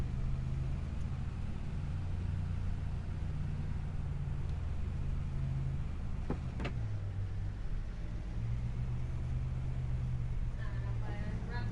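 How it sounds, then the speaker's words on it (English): A vehicle engine in Farming Simulator 25 drones steadily at a low pitch throughout, shifting tone partway, with a person talking over it. "we'll see if the other engine has a different sound or not."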